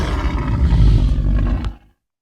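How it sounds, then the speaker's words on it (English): A lion lets out one deep, loud roar that swells and then cuts off abruptly into silence. "You hear the roar? Your lion mentality."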